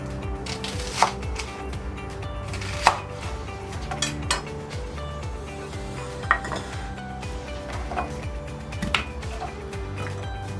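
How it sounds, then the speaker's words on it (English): Large white onions being cut into half-inch rounds with a knife on a board, heard as close, sharp chopping thuds at an irregular pace with light clinks in between. "Next I've got 2 large white onions which I'm also going to cut into 1/2 inch 10 to 12"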